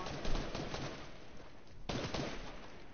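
Rapid bursts of gunfire ring out in the video game IO, dense crackling shots that pause briefly and then resume, fairly loud and close with no talk over them.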